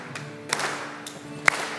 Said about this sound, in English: I'm clapping, right?